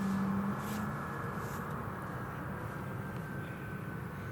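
An Eastern Airways Embraer jet at Newcastle Airport produces a steady, distant engine roar and broadband rumble that holds constant with a faint whine on top.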